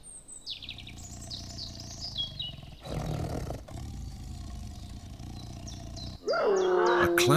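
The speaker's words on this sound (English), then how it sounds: "The male lion marks his territory with scent markings and roaring to warn off intruders and defend his pride from rival males." A male lion roars deeply and at length, close and powerful, with birds chirping around it in open wild country.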